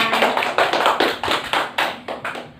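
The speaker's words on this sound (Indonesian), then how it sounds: "Tepuk tangan." A school class clapping hands in applause, a brisk burst of many close claps in an uneven rhythm that tapers off after a couple of seconds.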